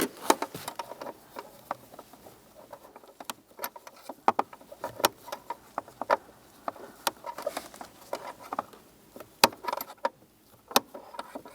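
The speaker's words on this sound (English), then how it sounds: "get our open end wrench and snug them up" An open end wrench snugs up parking brake cable fasteners on a 2005-2014 Toyota Tacoma, with irregular metallic clinks, taps and jangles close by over a faint background and no one speaking.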